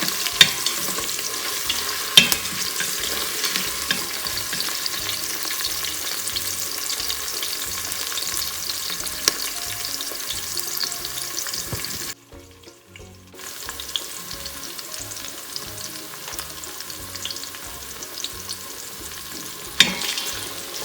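Onions and a bay leaf sizzle steadily in oil in an Instant Pot for mutton curry, with a continuous loud frying hiss, occasional stirring scrapes and a brief drop to near-quiet midway before the sizzle resumes.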